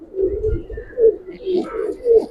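Giribaz pigeons coo in a loft, several soft rolling coos repeating close by, with faint chirps overhead and a muffled voice in the background.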